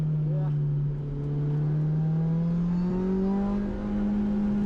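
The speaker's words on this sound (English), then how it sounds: "Finally pushing this supercharged 2ZZ engine. It sounds incredible." A 2007 Lotus Exige S220's supercharged 2ZZ engine drones steadily on a track, its pitch climbing slowly as it revs higher under load, heard from inside the car.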